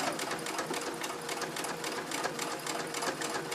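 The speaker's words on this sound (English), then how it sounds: "Turn with foot up, place the foot down and carry on sewing on the curve." Close, steady whirring of a sewing machine stitching a curve on a cloth pad, its rapid needle strokes forming a continuous even drone throughout.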